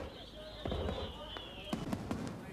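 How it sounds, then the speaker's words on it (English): Fireworks display at an outdoor royal event in wind and rain, with faint pops and a few sharp cracks heard from a distance under talk. "they watched the fireworks."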